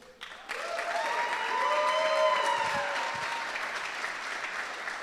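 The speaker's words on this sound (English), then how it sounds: "I like that y'all knew to clap." An audience at a wrestling award show breaks into steady, dense applause that starts abruptly and holds for several seconds, with a faint cheer or whoop rising above the clapping.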